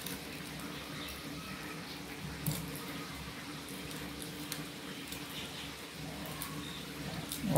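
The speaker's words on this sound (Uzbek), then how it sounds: "O'rta holatda qaynatamiz guruchni mana. Qaynamoqda." Rice simmers at a moderate boil in a pot of water for Uzbek plov, giving an even, continuous bubbling hiss with small pops and one brief clink, steady and close throughout.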